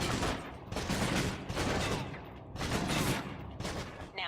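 Submachine gun emptying a full magazine in Alpha Protocol, loud close bursts of rapid fire separated by brief pauses.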